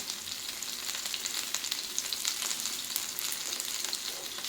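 Food sizzles steadily in hot oil, a dense crackling hiss with small pops scattered throughout, close and unbroken with no voices.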